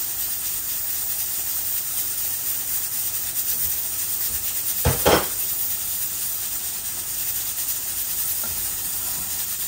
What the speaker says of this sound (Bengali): মটরগুলো আমার সিদ্ধ হচ্ছে দেখুন প্রেশার কুকারের মধ্যে